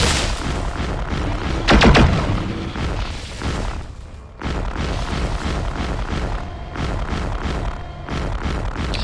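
Explosions and weapon fire in the Mechwarrior 4 video game, a loud, dense barrage of booming blasts and rapid impacts with one sharp, bright crack near the start and repeated thudding bursts throughout.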